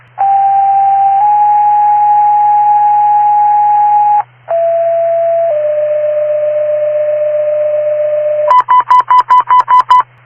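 Fire dispatch radio paging tones for Modesto Fire Station 1 sound as long steady sequential tones of two pitches, a short gap, then another pair, ending in a rapid series of warbling beeps, all loud and alone with no voice.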